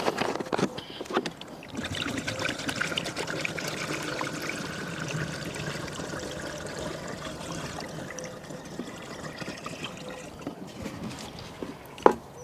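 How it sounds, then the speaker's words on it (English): Fresh water pours steadily into a caravan water container for several seconds, a continuous splashing trickle close by, ending with a short sharp clunk. "we're going to top it up with fresh water"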